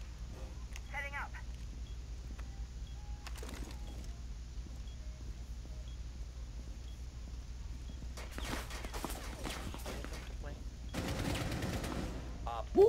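Bursts of gunfire in Rainbow Six Siege, fired through a non-reinforced mirror wall during a yacht team deathmatch, with short clusters of shots at intervals and a heavier rattle near the end over a steady low background hum.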